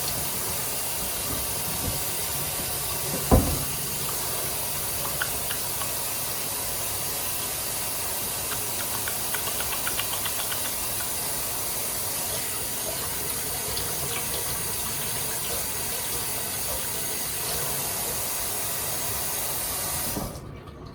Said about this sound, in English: the first thing we're going to do is we're going to wash our hands